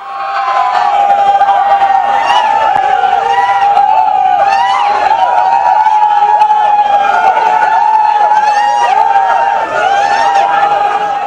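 A large, dense crowd roars and shouts around a police vehicle pushing through onto a national highway toward Aluva sub-jail, steady loud hubbub with cheering and yelling voices throughout, close and continuous.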